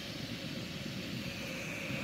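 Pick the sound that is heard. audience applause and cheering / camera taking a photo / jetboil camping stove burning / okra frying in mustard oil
jetboil camping stove burning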